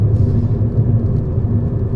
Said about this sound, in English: So it's a really nippy little car.